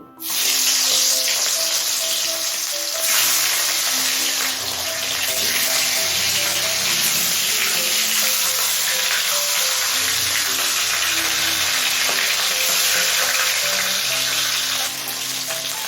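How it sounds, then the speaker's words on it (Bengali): Katla fish heads, salted and coated in turmeric, fry in five tablespoons of mustard oil in a kadai over high flame, a loud steady sizzle and crackle that runs for the whole clip with no talking. "এবার মাছের মাথাগুলো ভেজে নেব"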